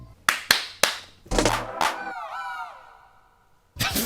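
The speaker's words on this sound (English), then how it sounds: "Thank you, KSI, for the double clap." Sharp hand claps ring out one after another, a short burst of loud claps with brief reverberant tails, followed by a pause and a softer clatter at the end.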